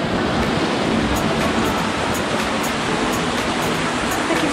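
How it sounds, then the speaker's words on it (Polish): Mountain waterfall in a rocky gorge at Janosikowe Diery in Mała Fatra, a steady broadband rush of falling water heard close and loud, continuous with no talk. "Taki tutaj mamy wodospad."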